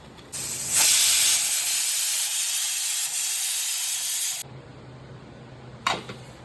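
A pressure cooker of mutton curry lets out a loud, steady hiss of escaping steam for about four seconds, then cuts off sharply, followed by a brief second burst near the end.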